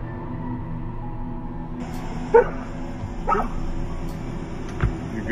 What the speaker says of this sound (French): You good, bud? What you barking at?